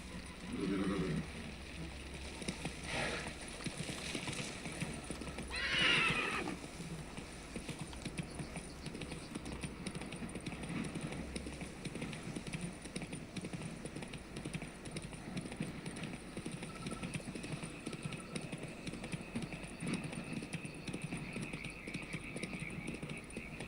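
Roach the horse galloping in The Witcher 3 video game, a faint, steady run of hoof clip-clops over quiet outdoor ambience with no voices.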